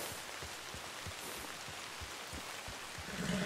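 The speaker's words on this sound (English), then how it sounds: "Sir, it is raining, it's pouring." Steady rain in a video game set in a demon-infested wilderness, a dense hiss of drops on surfaces with soft low patters, constant and fairly close throughout with no talking.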